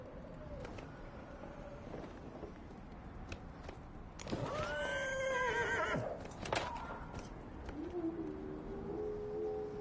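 A horse in a video game whinnies loudly in the middle, a rising and falling neigh over steady outdoor ambience with a few scattered clicks and chirps.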